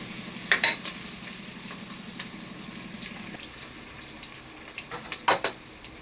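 Small onions cook in a pot of mutton biryani, giving a faint, steady sizzle with a few soft scrapes and clinks of a stirring spoon, quiet and close with no talk.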